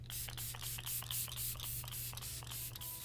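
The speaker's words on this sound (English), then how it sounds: "I'm going to go in with the COL-LAB Grand Finale 3-in-1 Hydrating Makeup Setting Mist." COL-LAB Grand Finale 3-in-1 hydrating makeup setting mist sprayed in a quick series of about ten short, soft hissing pumps, close and evenly spaced over a faint steady hum.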